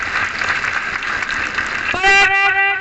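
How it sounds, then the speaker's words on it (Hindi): A crowd claps steadily and densely at a school Independence Day celebration for about two seconds, before a sustained, harmonically rich tone abruptly cuts in over it. "ताली बजाएंगे।"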